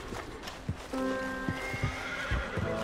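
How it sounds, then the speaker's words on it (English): Panicking horses in Red Dead Redemption 2 let out a tonal, wavering neigh with a few hoof clops around it, set against a dense, noisy in-game background. "Horses are freaking out."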